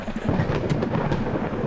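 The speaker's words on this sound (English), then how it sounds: "Was that thunder?" Thunder in the video game Dream Daddy, a low rolling rumble with rain-like noise, fairly loud and steady for under two seconds, with no speech.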